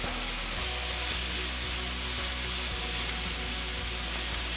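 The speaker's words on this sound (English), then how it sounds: "I'm going to turn it back up to medium heat and just saute them." Mushrooms sautéing in a pan over medium heat with a touch of salt, giving off a steady, soft sizzle and hiss that holds even and continuous throughout, with no talking.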